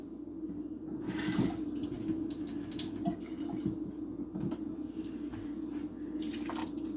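Tap water runs into a can while chili is being cooked, a steady splashing and trickling flow at moderate level with a few clinks and knocks, and no one speaking.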